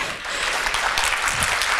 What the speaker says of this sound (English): So I ask all of you here tonight to put your hands together and clap for my father and for your advocate